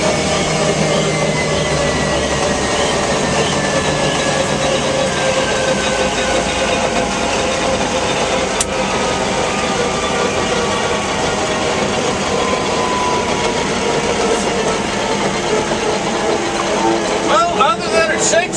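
A rebuilt UH-1 Huey helicopter's turbine engine runs steadily at close range, a loud continuous whine and rumble with slowly rising tones, and people talk faintly underneath.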